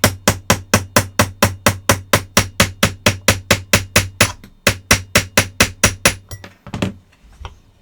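A punch is tapped with a hammer to drive a part back into a Mauser K98k rifle during reassembly: a rapid, even run of about two dozen sharp, close metallic knocks, a brief pause, then a few more taps, with no talking.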